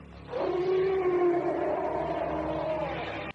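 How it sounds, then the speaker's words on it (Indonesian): A white tiger gives a long, loud sustained roar that swells quickly, holds steadily for about three seconds and then trails off, heard alone. "Nyi Guru mendengar raungan harimau itu?"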